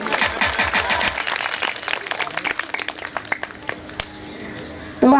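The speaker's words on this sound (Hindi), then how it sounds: "ताली तो हो जाए" An audience at a Shrimad Bhagavat Katha recitation claps in a loud, rapid patter that thins into scattered separate claps over a few seconds. A voice starts up right at the end.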